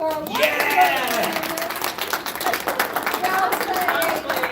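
Audience applause and clapping at a live game-show style stream, a dense continuous patter of claps with cheering voices over it, steady and fairly loud throughout.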